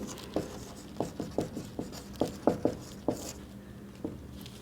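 Marker or chalk strokes tap and scrape on a board in an irregular rhythm of about a dozen short, crisp strikes, faint against a quiet room with no talking.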